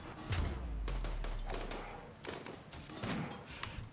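Bursts of gunfire in the video game RimWorld, several rapid volleys and thuds over about four seconds, moderately quiet and without speech.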